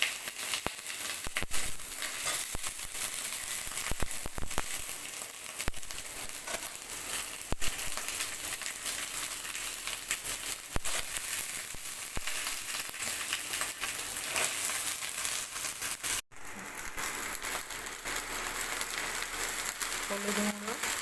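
Eggplant, potato and drumstick pieces fry in a pan over onions, giving a steady, close hiss and crackle that runs almost unbroken with brief stirring clatter and one short dropout near the end.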